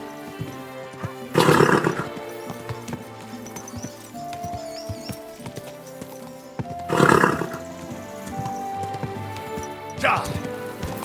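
A horse in Kingdom Come: Deliverance II gives two loud whinnies a few seconds apart, then a shorter snort, over soft background game sounds and brief talk.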